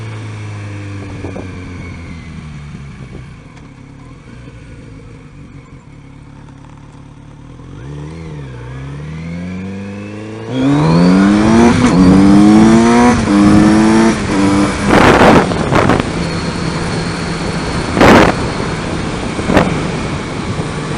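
A 2018 Kawasaki Z900RS motorcycle idles low and steady, then roars up through the revs as it pulls away and accelerates hard, the engine note climbing loud and close with gear changes on an open road.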